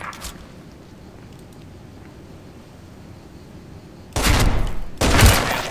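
AUG A3 rifle fire in the game Special Force 2: two loud, sharp shots in quick succession near the end, following a long stretch of quiet background hiss.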